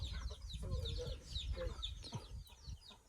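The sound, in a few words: chicks chirping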